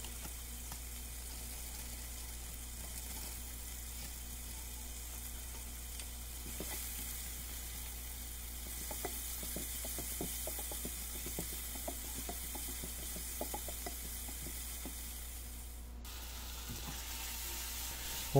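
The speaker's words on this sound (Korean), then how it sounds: "야채 어느 정도 익었을 때 버섯이랑 소세지 넣고 또 볶아주세요" Vegetables, mushrooms and sausage stir-fried in a pan, a steady quiet sizzle over a constant low hum, with light intermittent scraping and tapping in the middle stretch.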